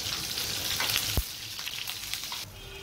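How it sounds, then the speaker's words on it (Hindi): Chopped onions fry in hot oil in a pan for a chicken hari bhari dish, giving a steady soft sizzle and crackle with a brief clatter partway through, fairly quiet and with no talk. "एक तरफ हम प्याज को फ्राई कर रहे हैं थोड़ा ब्राउनिश होने के लिए"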